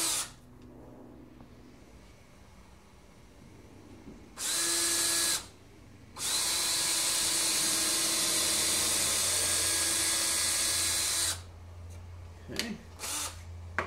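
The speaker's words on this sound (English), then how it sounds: "Helps have a drill bit on there." A power drill driving screws into pallet wood, two whirring bursts, one short and one several seconds long, close and loud, with a brief spoken word before.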